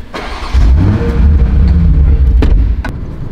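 Toyota Supra MK5 A90 engine on a test track, a loud close rumble that jumps up and holds a rising drone as it accelerates, with a couple of sharp clicks near the end.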